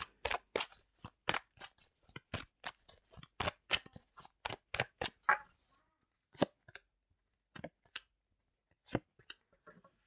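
A rapid run of crisp riffling clicks as a deck of tarot cards is shuffled, then several scattered, isolated snaps and taps after a pause; no talking.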